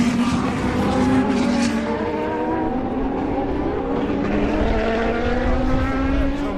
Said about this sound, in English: That's the sound of petrol.